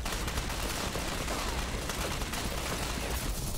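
Dense, continuous gunfire crackles nonstop in the tactical shooter Ghost Recon Phantoms, a loud chaotic burst of overlapping shots with no talk.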